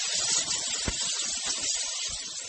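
Chicken seasoned with adobo and garlic frying low in butter gives a steady, close broadband sizzle with crackly texture, faint low thumps from the room beneath it.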